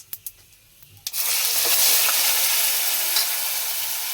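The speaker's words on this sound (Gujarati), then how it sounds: "એમાં નાખી દેવાનું છે મિત્રો આપણે હવે ડુંગળીની પેસ્ટ." Onion paste hits hot oil in a pan for restaurant-style paneer tikka, bursting into a loud, steady sizzle after a few light clinks, with close, continuous frying and stirring noise.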